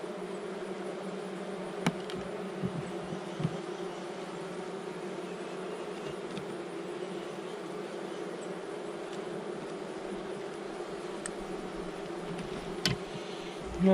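Honey bees hum steadily around an open Langstroth hive during a robbing frenzy, a continuous droning swarm with occasional closer buzzes passing by.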